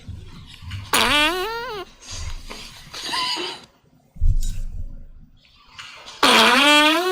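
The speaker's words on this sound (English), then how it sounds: "Fart song." A played fart song delivers a series of loud, wet, tonal farting blasts, several separate bursts with short pauses between them.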